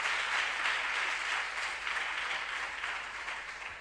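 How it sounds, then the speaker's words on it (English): Sustained audience applause for students at a regional science and maths quiz contest, a full, even round of clapping that slowly tapers, heard from a distance. "Please give them a big round of applause."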